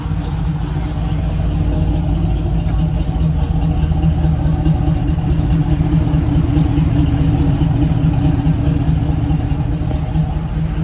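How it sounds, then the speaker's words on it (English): A 1969 Camaro V8, revived after sitting for 36 years, idles steadily and close by, with a smooth, even low rumble that holds without any change in pitch or level. "I'm really happy with the way this car runs."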